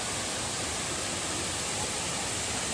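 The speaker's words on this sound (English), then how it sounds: "Getting treated to all kinds of waterfalls today." A steady, dense roar of rushing water from a waterfall on the Appalachian Trail, loud and unbroken throughout.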